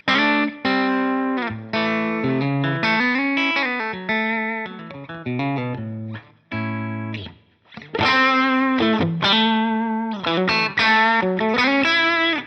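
Distorted electric guitar playing a melodic riff with sustained notes and brief pauses, clean of any sweeping filter effect, with light reverb.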